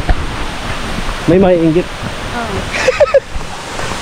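Steady broadband rush of flowing water, like a waterfall or stream, continuing throughout beneath short bursts of nearby conversation.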